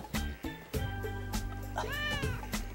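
A mother cat meows close by, a drawn-out, rising and falling call that follows a few shorter sounds, loud and clear over faint background noise.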